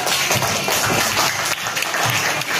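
A class of students applauds in a classroom, a full, continuous round of hand clapping that stays loud and even for a couple of seconds with no talking on top.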